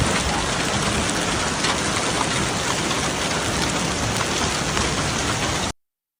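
A hailstorm pounds down over Rizhao, Shandong, a loud, steady, dense roar of hailstones striking surfaces, continuous and close with no voices, then cutting off abruptly near the end.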